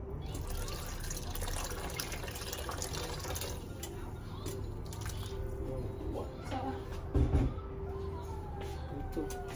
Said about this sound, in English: to add water